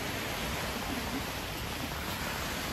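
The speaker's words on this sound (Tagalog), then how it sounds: "Manunood lang ako ng alon." Sea waves washing onto a beach make a steady, unbroken roar of hissing surf that holds at an even level throughout, with no voices.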